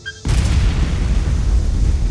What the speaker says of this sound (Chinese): 车厂发生了剧烈爆炸